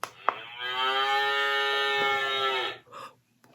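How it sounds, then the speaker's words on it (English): A cow's long, loud moo plays from a toy farm-animal sound book, one sustained call lasting a couple of seconds after a small click, with no talking. "Ooh, the cow said moo."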